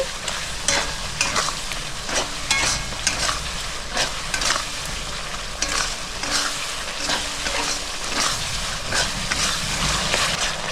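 Spice masala frying in a pan, loosened with a splash of water, sizzles continuously at close range. Repeated scraping strokes of a spoon stirring it come through at a steady rhythm, with no voices.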